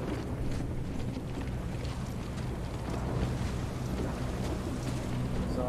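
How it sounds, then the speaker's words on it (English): A storm wind in The Callisto Protocol video game blows as a constant, loud, dense roar with gusty rustling throughout, heard alone with no speech. "I don't think we're gonna beat the storm then, right? If it's already like this."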